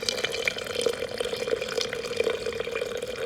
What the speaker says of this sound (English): Now it's time to gradually start adding in our chicken stock.